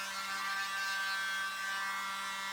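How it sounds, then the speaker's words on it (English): A small handheld mini blower runs steadily with a thin, high electric buzz and a faint low hum, close and constant throughout, with no talking. "This little mini blower is so awesome."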